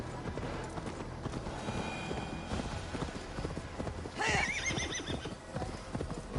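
Hooves of a Celestial Unicorn mount in Assassin's Creed Valhalla clip-clop in a steady galloping rhythm throughout, with a short whinny partway through.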